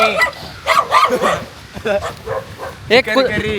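Dogs bark back and forth at each other outdoors on a rainy day, repeated sharp yaps and bow-wows close by, mixed with someone talking.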